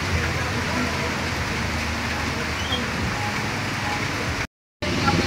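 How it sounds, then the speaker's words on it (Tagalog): Heavy rain pours steadily, a dense, constant hiss and patter on surfaces filling the scene at close range, with a brief dropout near the end. "Lakas ng ulan mga kapams."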